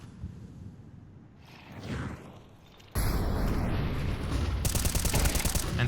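Gunfire in Counter-Strike 2 during a Major match, starting with faint distant shots and a whoosh, then a loud sustained burst of rapid automatic fire for the final seconds, with no talking.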